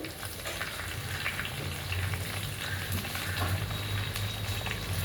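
Finely chopped tomato fries in a hot pan, giving a dense, continuous crackling sizzle, close and steady throughout, with a low hum beneath.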